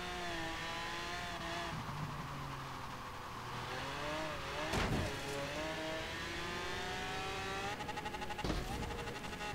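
Game race cars in Forza Horizon 3 with the Hot Wheels add-on accelerate steadily, their engine whines climbing and shifting in pitch, broken by two sharp bursts of impact or tire noise, continuous and close.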